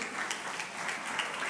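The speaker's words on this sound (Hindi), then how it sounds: "एक बार जोरदार ताली अपने" Audience applause for mothers and fathers at a school gathering, a dense, even patter of many hands clapping at moderate distance, sustained throughout with no speech.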